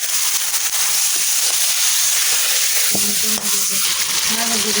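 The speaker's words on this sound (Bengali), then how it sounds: "কিছুক্ষণ তেলের ভিতর ভেজে নিয়ে মাখানো মাংস দিয়ে দিলাম" Marinated chicken fries in hot oil with onion, ginger-cumin paste, garlic paste and whole spices, a loud, continuous close-up sizzle with bursts of crackling throughout.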